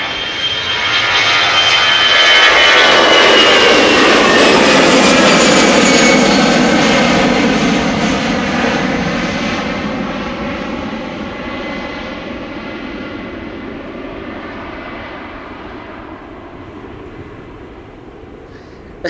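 EasyJet jet airliner at Amsterdam Schiphol Airport, its engines roaring loud and close for several seconds, then slowly fading into a steady distant rumble as the plane moves away.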